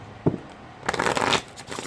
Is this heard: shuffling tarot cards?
yes